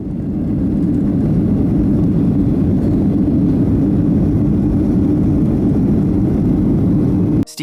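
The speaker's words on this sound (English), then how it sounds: "Wonderful steep takeoff of an American Airlines Boeing 757 at JFK Airport in New York." An American Airlines Boeing 757 takes off steeply at JFK Airport in New York, its jet engines giving a loud, steady low roar that holds throughout before a sudden cut at the very end.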